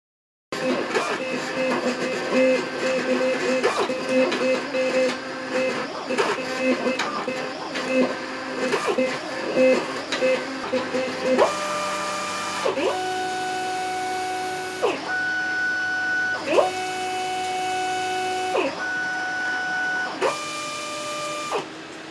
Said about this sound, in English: Once the cutter is done cutting